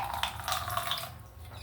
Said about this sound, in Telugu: కొంచెం నీళ్ళు పోద్దామండి